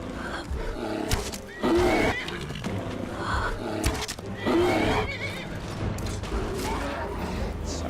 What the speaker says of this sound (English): Oh, and we have another bear.